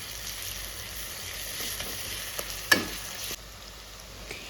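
Meat frying in a pan as garlic paste goes in, a low steady sizzle with a brief sharp clatter midway, faint and close, no voices.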